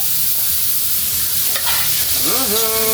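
Pork fries in a little oil with a steady, fairly loud sizzle and hiss, with a brief scrape of stirring partway through.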